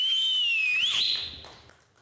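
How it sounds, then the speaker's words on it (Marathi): A single loud, piercing whistle from a performer on a comedy show stage, one sustained note that wavers and rises before trailing off into faint room noise. "पहिली शिट्टी तुमच्यासाठी."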